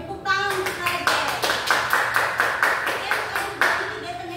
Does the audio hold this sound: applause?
yes